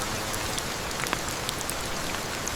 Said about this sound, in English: The rain slowly softened, as if the day was breathing out.